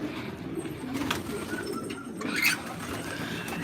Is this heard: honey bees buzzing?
no